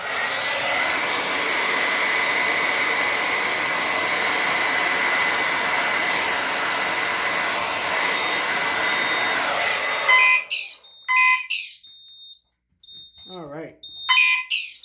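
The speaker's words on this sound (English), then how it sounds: "And I got a hairdryer." A hair dryer blows with a steady, loud whooshing roar for about ten seconds during a fire alarm heat detector test, then cuts off, leaving brief bursts of faint talking.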